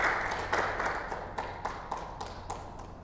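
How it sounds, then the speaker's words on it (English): An audience at a tourism development seminar claps for a presenter, a thin, fairly quiet run of scattered handclaps that fades slightly over a few seconds. "So once again, give a big applause to Miss Haddy Darboe."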